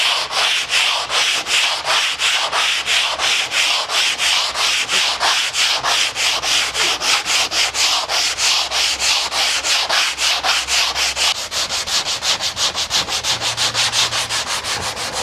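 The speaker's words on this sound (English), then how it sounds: "then you have the curvature that you need to sand across that area" Body filler is sanded by hand with a PaintFX Soft Sander sandpaper pad, a loud, close, rhythmic rasp of fast back-and-forth strokes that continues steadily without talk.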